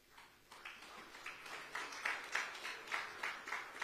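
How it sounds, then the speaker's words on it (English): Audience applause for five presenters at a parliamentary forum assembly: faint, steady clapping from a crowd that swells slightly and holds a loose rhythm. "let's give the 5 presenters a round of applause with appreciation"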